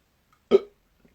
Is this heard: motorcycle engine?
no